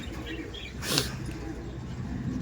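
Domestic racing pigeons at a keeper's loft coo in low, murmuring tones beneath a brief bright rustle, with steady background noise throughout.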